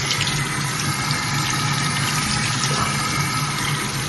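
Tap water running steadily from a faucet while tanning product is rinsed off an arm, a continuous close hissing gush with no talk over it.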